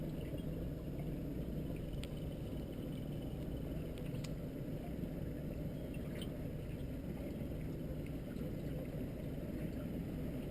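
Outboard motor on a 2003 Alumaweld Stryker 15-foot aluminum boat running steadily during a turn, a continuous low rumbling drone with water wash, close and even throughout.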